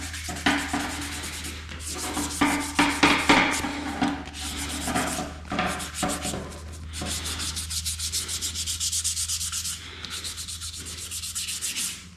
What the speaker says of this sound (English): I'm finish sanding all of them and put another coat of epoxy on them